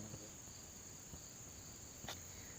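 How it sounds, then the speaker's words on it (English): Crickets chirping near a microphone indoors, a steady high continuous trill with a faint brief tap, quiet background and no speech. "Sometimes I get a little insects around the area"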